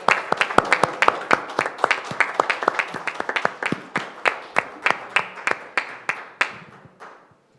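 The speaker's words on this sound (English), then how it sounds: "I think they deserve a round of applause as well." A small city council meeting audience applauds firefighters and an EMS team, a modest round of distinct, closely spaced claps that stays steady and then thins out and fades over the last second.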